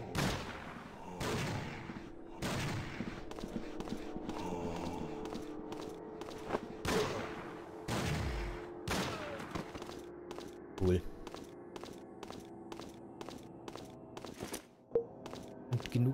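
Three-shot burst weapon firing in the game Heaven Dust, with several sharp loud bursts of shots spread across the stretch between quieter footsteps and game ambience.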